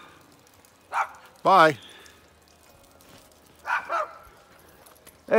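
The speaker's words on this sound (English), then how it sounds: "what are you guys barking at" Dogs bark in a snowy yard in Crestline, California, with two short bursts of barking early and another pair a couple of seconds later, loud and near, while a person briefly speaks.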